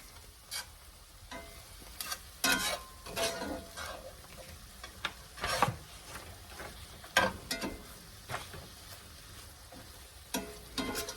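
Smoked sausage and potato skillet with a teaspoon of hot sauce being stirred in a hot pan: scraping spoon strokes come in irregular bursts over a steady low sizzle, close and moderately loud, with no talking.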